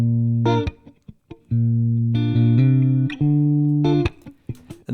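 A dry electric guitar with all effects switched off plays short chords and single notes, each cut off by brief pauses, clean and close with no added ambience.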